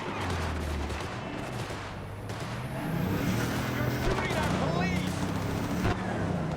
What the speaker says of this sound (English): They are definitely shooting up police, I think that's the point.